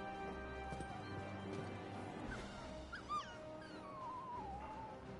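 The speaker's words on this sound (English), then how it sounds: "Ah, yes, stock dog sounds." Stock dog sounds from the Final Fantasy XVI video game, faint short whimpers and yelps rising over a busy game soundscape with background music and ambient noise.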